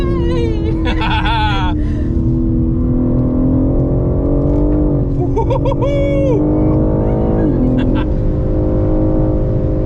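A BMW M3 tears flat out around the Goodwood circuit during a track day, its engine droning steadily and loudly close up with rising and falling pitch sweeps through gear changes, while people talk inside the car.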